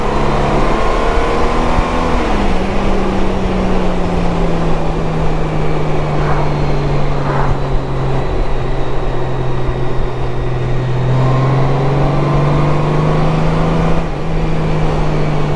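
A 2021 Honda Goldwing DCT automatic motorcycle in sport mode pulls hard, its engine note climbing steadily and shifting pitch through gears, loud and continuous with heavy wind rush throughout.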